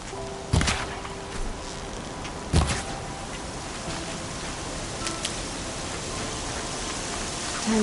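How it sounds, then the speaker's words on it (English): Rain in the video game Horizon Zero Dawn falls as a dense, steady hiss across the whole scene, with a few sharp clicks and knocks standing out above it. "Rain."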